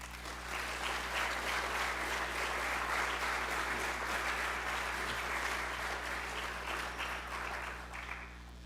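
A crowd at the UWI Math Fair applauds its sponsors, a steady, dense wash of clapping that holds evenly for several seconds before easing off at the end.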